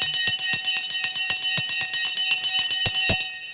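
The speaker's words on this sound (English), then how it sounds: "Okay, the bell's gone." A stock market closing bell rings in a fast, even series of bright metallic strikes, loud and close, with no speech during the ringing.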